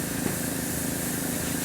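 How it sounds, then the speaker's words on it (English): Compressed air hisses steadily through a Badger airbrush, spraying only air after the primer has been cleaned out, as a continuous close, even rush lasting the whole moment. "I'm just spraying air."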